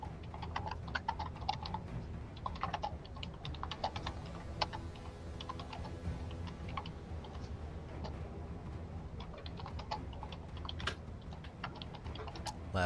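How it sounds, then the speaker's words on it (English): Loud, rapid typing on a computer keyboard clatters continuously in irregular bursts of close clicks over a low background rumble, with no talking, during a tabletop D&D session. "Loud typing noises."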